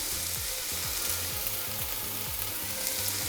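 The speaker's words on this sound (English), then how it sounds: "So now that it's sauteing up, we're gonna put a little bit of seasoning in here." Meatball soup base sautéing in a pot, a steady close sizzle and frying hiss with faint rhythmic stirring scrapes, no talking.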